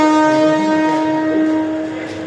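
A Harbour Line suburban train near Chhatrapati Shivaji Maharaj Terminus gives off a loud, steady, multi-toned horn-like drone that holds for about two seconds before fading slightly, with no voices.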